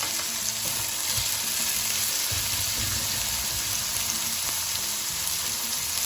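Onions, beansprouts and shiitake mushrooms frying with garlic in hot oil, a loud, dense sizzle with steady crackling and soft stirring scrapes, continuous and close with no speech.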